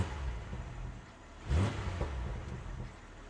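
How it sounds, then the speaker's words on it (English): Engine of a luxury SUV, a BMW X3 M40i or Audi SQ5, heard from inside the cabin as a faint low idle that swells in one short rev and then settles back. "So I can rev it up, and nothing's really happening"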